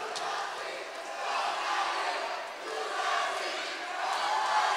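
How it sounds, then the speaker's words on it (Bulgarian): A boxing crowd at a 64 kg semifinal bout cheering and shouting in a steady, moderately distant roar that swells and eases in waves, with no clear single voice standing out. "радостните възгласи на публиката"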